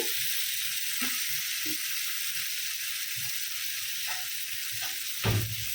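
Potatoes dropped into spice paste frying on low heat in a pan make a steady sizzling hiss, with scattered soft knocks and a louder clatter near the end as they go in. No voices.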